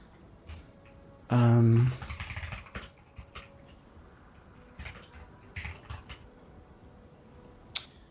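Keyboard typing comes as scattered quick clicks and short bursts of keystrokes, fairly close, following a brief loud tonal sound near the start.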